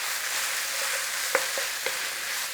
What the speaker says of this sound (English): cook out the rawness of the garlic and then stir it in